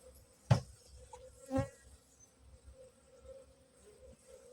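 Honey bees buzz around a hive during spring inspection, two sharp knocks on the hive cutting through a faint, steady drone.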